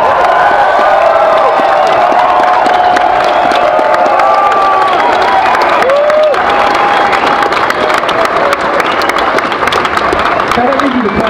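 A large concert crowd at Tivoli Vredenburg in Utrecht claps and cheers loudly for the performers, dense sustained applause with whoops and high shouts rising over it throughout.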